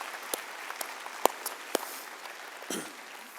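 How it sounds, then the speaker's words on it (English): A church congregation applauds, a soft, steady wash of clapping with a few sharper individual claps standing out, moderately distant and without any talking. "would you applaud for a bunch of people that made that decision"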